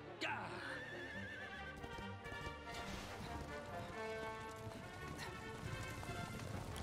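A horse whinnies in Dragon Quest XI, a shrill neigh near the start against busy game music and effects, with hoof clatter and other in-game sounds continuing throughout.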